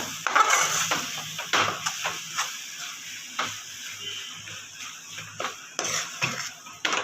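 Potato filling for aloo paratha is stirred and mixed in a metal pan, giving repeated close scraping and clinking of a spoon against the pan in an irregular rhythm, with no voice.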